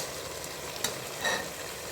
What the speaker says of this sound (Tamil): இந்த சிக்கனை இதில் சேர்த்துக்கிறோம்.